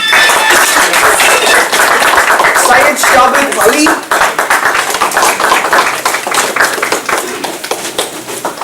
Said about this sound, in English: Guys, could we clap?